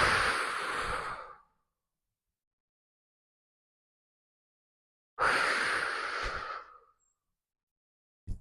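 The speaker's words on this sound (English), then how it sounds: "exhaling through the mouth" Two deep, long breaths are exhaled through the mouth during a mindfulness breathing exercise, each a close, breathy rush of air lasting over a second, separated by a few seconds of silence.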